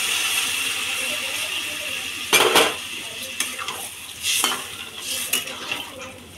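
A little water goes into a pan of fried potatoes, bringing sharp bursts of hissing sizzle along with the scrape and clink of a utensil stirring in the pan over a steady frying hiss.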